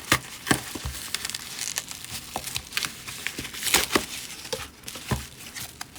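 Packaging for Magic: The Gathering cards is torn and crumpled open by hand, producing irregular close crinkling, ripping and crackling bursts over several seconds.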